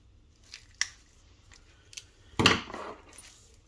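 Snipping and crinkling as knife packaging is cut open to unbox a Ruike folding knife: a few light clicks, then a louder cluster of cuts and plastic rustle near the end.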